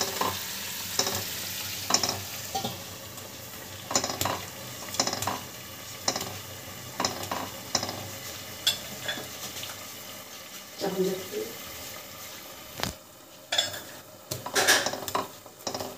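Chicken chap frying in a pan, pressed and stirred with a metal spatula, a bright sizzle under repeated close scraping and clinking strokes in an uneven rhythm.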